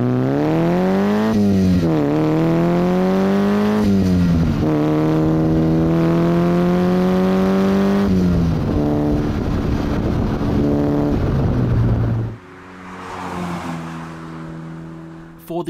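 A Mazda MX5-based MK Indy RX-5 kit car accelerates hard on the road, its engine note climbing through several gears with rising, falling harmonics, loud and close, then dropping to a lower drone near the end.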